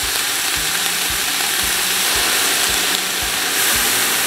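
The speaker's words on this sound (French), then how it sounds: "on met notre viande en premier dans la casserole. On la fait revenir un petit peu dans l'huile puis dans la sauce soya." Meat sizzles and fries in oil and soy sauce in a pan, a steady loud hiss with a rhythmic scraping knock roughly every half second as it is stirred.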